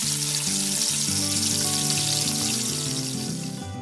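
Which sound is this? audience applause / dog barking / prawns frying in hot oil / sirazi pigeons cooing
prawns frying in hot oil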